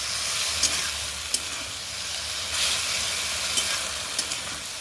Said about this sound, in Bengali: এই যে দেখুন বন্ধুরা এটা কিন্তু ভাজা ভাজা হয়ে গেল